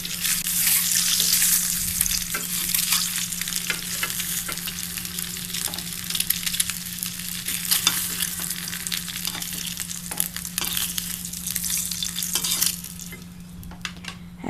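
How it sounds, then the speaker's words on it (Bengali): An egg fries in oil in a kadai with a continuous, close crackling sizzle, broken by scrapes as it is turned over, and the sizzle eases slightly near the end. "ভালো করে উল্টে পাল্টে দিব, যাতে ডিমটা সব দিকে একটু ভালো করে ভাজা হয়ে যায়।"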